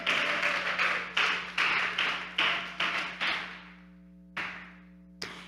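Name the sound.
congregation applauding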